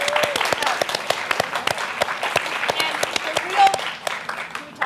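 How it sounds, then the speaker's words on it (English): Steady applause from a crowd, many hands clapping in a dense rattle that holds for several seconds, with a few voices mixed in. "So let's applaud that."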